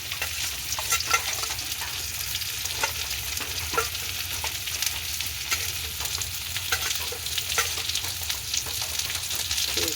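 Whole crushed garlic cloves stirred into a dish frying in a pan, a constant close crackling sizzle with occasional scrapes of the spoon throughout, steady and moderately loud with no speech.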